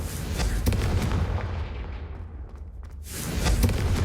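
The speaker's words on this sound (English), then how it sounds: "a Confringo cast travels a bit farther than that of a spell like Incendio" A Confringo fire spell from Hogwarts Legacy strikes candelabras with booming, crackling blasts. Loud bursts open the moment, ease into a quieter tail, then flare again toward the end.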